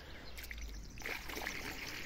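Fresh water pouring into a chickens' water container outdoors, a steady close trickle and splash that runs throughout and grows fuller and brighter about halfway through.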